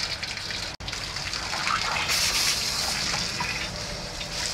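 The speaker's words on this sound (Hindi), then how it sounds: "ये देखो अब पाइपलाइन से पानी एकदम साफ आ गया है" Clean water gushing steadily from a pipeline during chemical tanker cleaning, a loud continuous rushing flow close by, briefly cut off once near the start and then swelling stronger.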